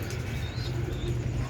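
Pigeons at a breeding setup coo in low, soft, continuous murmurs under a steady wash of background noise, with faint chirps mixed in.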